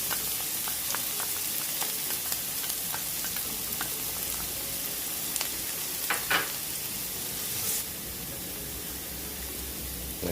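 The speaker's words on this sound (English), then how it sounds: "Going with the garlic now" Garlic sizzles steadily in a hot pan for beef shepherd's pie, with a dense, close frying hiss and a few scattered stirring clicks.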